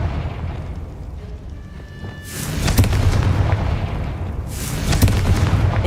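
Explosive spell blasts going off in the Hogwarts Legacy video game, two loud booming bursts roughly two seconds apart, each with a crackling rumbling tail over a steady background hum, with no talking.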